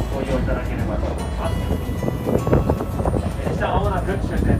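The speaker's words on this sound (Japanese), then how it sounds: "列車はまもなく終点高森です。" The Minamiaso Railway trolley train rolls toward Takamori station with a steady, loud rumble and rattle of wheels on track. A public-address announcement plays over the running noise.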